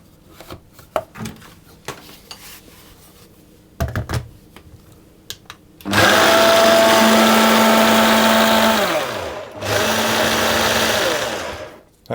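A food processor pulses tart ingredients in two loud, steady bursts of whirring motor noise, the first about three seconds long and the second shorter, after a stretch of quiet clatter and handling.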